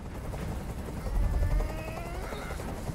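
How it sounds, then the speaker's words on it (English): Helicopter noise in the Detroit: Become Human video game, a steady loud rotor drone that swells slightly in the middle, continuous throughout with no talking. "I can't stand that noise anymore. Tell that helicopter to get out of here."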